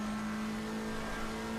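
Race car lapping Suzuka in the Assetto Corsa Competizione sim, a steady droning engine tone held at constant revs, quiet and even with no talk.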